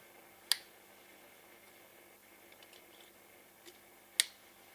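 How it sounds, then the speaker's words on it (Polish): Electrical connector plugs pressed onto the ignition coils of an Opel Insignia B 1.5T during a spark plug change give two sharp, isolated clicks a few seconds apart, close and crisp in a quiet room. "Przy zakładaniu wtyczek pamiętajmy o tym, że najważniejsze jest kliknięcie."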